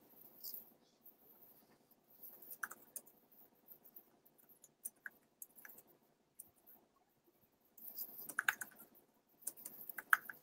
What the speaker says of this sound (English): I'm typing it in for you